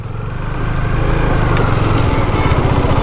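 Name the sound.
motorcycle engine idling while parking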